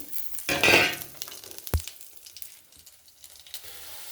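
Dried red chillies and black cumin dropped into hot mustard oil in a village kitchen, a brief burst of sizzling followed by a sharp clink of a utensil, then quieter frying.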